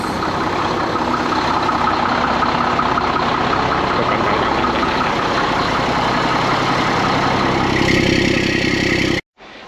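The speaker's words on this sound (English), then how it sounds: "We've still got the F7 running" A Volvo F7 truck engine idles with a steady, loud diesel rumble heard close, holding an even rhythm before cutting off abruptly near the end.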